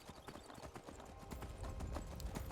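Horse hooves galloping in Skyrim, a quiet steady clip-clop rhythm that grows slightly heavier and closer toward the end, with faint talk in the background.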